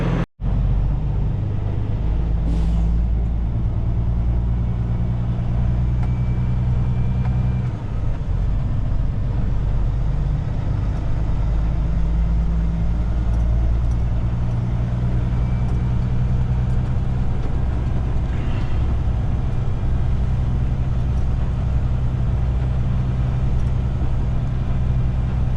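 A truck pulling a single lightly loaded trailer rolls in through Western Australia's Pilbara, its engine a steady low drone close by for the whole stretch, with a brief dip in the rumble partway through.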